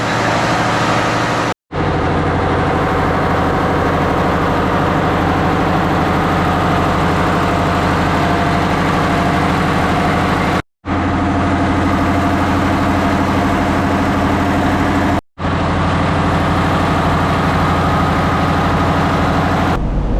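Generator aboard the Indonesian navy sailing ship KRI Dewaruci running to supply lighting, a loud steady low hum and drone that continues unbroken, with a few brief dropouts, and no talk over it.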